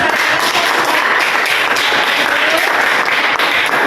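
Audience applause after a classroom presentation, a dense, steady wash of many hands clapping loudly and close for the whole stretch, with no talking over it.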